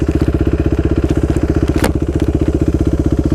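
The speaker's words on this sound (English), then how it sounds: "I'm about to test ride the 2017 Suzuki RMX Enduro, I guess it is. Dual Sport." 2017 Suzuki RMX450 enduro dual-sport motorcycle idling, a loud close single-cylinder thump that pulses in a fast, even rhythm throughout, with a brief rattle near the middle.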